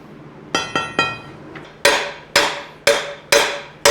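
A piece of rebar used as a fire poker strikes parts of a Ford 302 engine from a 1964.5 Mustang during teardown, giving eight sharp metallic clanks, first three lighter rapid taps and then five heavier, evenly spaced ringing hits.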